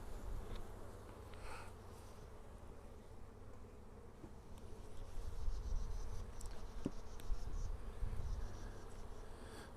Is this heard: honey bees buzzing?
yes